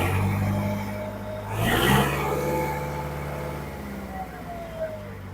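A mini tractor engine runs at an agricultural fair, a steady low droning hum with a brief louder surge partway through, close by, while someone talks over it.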